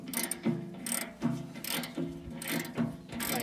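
Metal bolts being worked loose from the fender of an Oliver 88 tractor, giving repeated ratcheting and clanking mechanical bursts in an uneven rhythm, close and moderately loud with no talking.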